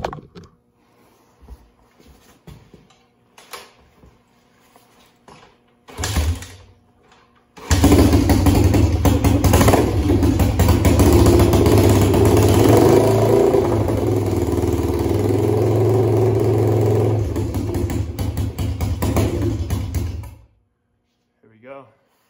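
A 1996 Honda XR 250 dirt bike gets a few quiet kicks, then catches and runs loud and close, idling and revving for about twelve seconds before cutting off, with a voice briefly before it fires.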